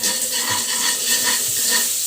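Garlic sizzles and crackles steadily in a hot pan as the base for pork spare rib sinigang, a dense continuous frying hiss with faint stirring scrapes, close and with no talking.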